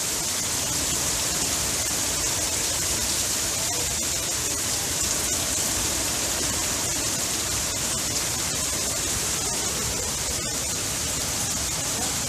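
Hurricane Irma's wind and rain lashing Polk County, Florida, as a steady, loud, unbroken roar of driving rain and gusting wind that holds for the whole stretch with no voices.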